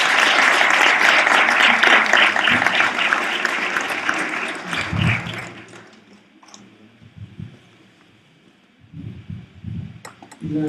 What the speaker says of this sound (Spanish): Les pido un aplauso para los estudiantes.